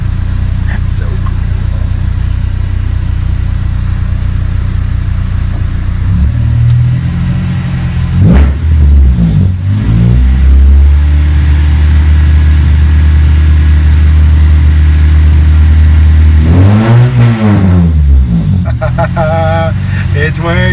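Honda Civic EK project car with a newly installed sequential shift light, its engine revving near the microphone in two loud rises and falls over a steady idle, with a person talking over it.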